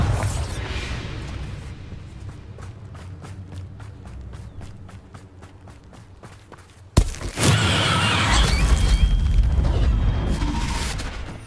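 The Bombarda explosion spell in the video game Hogwarts Legacy: rapid running footsteps, then a sudden loud blast that swells into a sustained roaring rumble.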